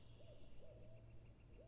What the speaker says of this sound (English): There's some owls here in my yard too that are mating right now, so hopefully you guys can hear that too.